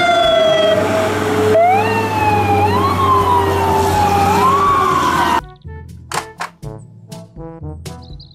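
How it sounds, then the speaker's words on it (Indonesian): Fire truck siren wailing loudly with rising and falling tones over a rumbling engine for about five seconds, then cutting off abruptly, followed by a few scattered sharp knocks. "Mobil truk pemadam kebakaran."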